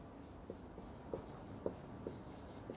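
Math equations being written by hand, a faint, steady scratching of strokes with small regular taps, quiet and close with no voices.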